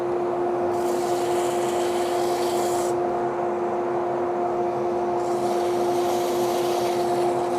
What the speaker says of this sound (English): That's all I'm going to do now is sand it